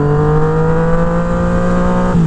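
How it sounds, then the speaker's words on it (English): A loud, steady engine drone from a 2017 Yamaha FZ-09 motorcycle with a deep, rumbling exhaust note, heard muffled and close from inside the helmet, holding constant before a slight dip in pitch near the end. "this, guys, is the in-helmet sound"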